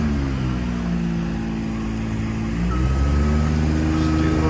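A JLG 330 CRT scissor lift drives around, its motor giving a steady, fairly loud droning hum that rises slightly partway through, with no talking.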